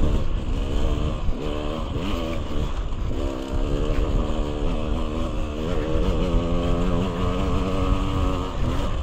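2009 KTM 200 two-stroke dirt bike ridden on a Utah singletrack trail, engine revving and rising and falling in pitch through gear changes, loud and continuous from on board.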